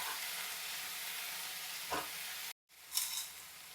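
Chana dal and coriander leaves fry in a pan for a spicy chutney, making a soft, even hiss with a faint stir and a brief cutoff before the sizzle resumes.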